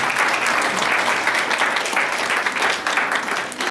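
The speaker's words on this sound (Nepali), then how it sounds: "हामी ताली बजाएर धन्यवाद दिन्छौँ" A wedding crowd claps steadily for a few seconds, a dense patter of applause that fades slightly at the end.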